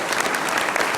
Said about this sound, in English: Please join me in a round of applause for Keith Alexander.